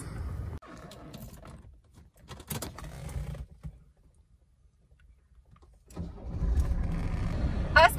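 A Mercedes-Benz with 374,730 miles on the odometer starting up: quiet rustling gives way after a few seconds to a loud engine catch and steady running close by, with no talk.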